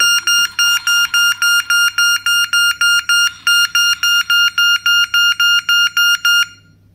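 An electronic fishing bite alarm from AliExpress beeps loudly in a fast, steady series of shrill pulses, repeating about three times a second before cutting off.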